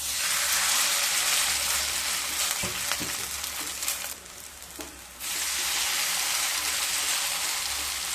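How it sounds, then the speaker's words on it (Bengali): Mixed Maggi noodles drop into hot white oil in a pan and fry with a loud, steady hiss. The sizzle briefly softens around the middle amid a few clinks of stirring, then surges back at full strength. "তেলটা গরম হয়ে গেছে, এবার মেখে রাখা ম্যাগিটাকে দিয়ে দেব।"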